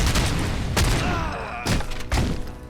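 Grenades in the video game RoboCop Rogue City burst in quick succession as loud, close blasts with sharp cracks and thuds. Gunfire and debris fill the short gaps between them.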